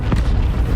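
Cannon fire in the Battlefield 1 video game lands as a single heavy explosive boom close by, followed by a rumbling low tail.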